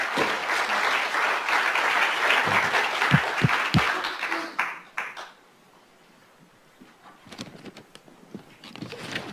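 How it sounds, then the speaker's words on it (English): A conference audience on foreign military bases gives a round of applause for the previous night's speakers and performers, dense clapping for about five seconds that fades, then a few scattered claps and light room noise. "let's also just give an applause to all the speakers and performers last night"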